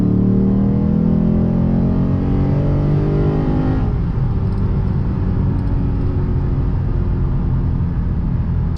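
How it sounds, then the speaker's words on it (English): Lexus RC F V8 engine with an ARK aftermarket exhaust, heard from inside the cabin in 4th gear around 2,000 RPM, a loud, steady low rumble and drone that eases slightly partway through. "Probably hear mostly engine, but their exhaust is still there."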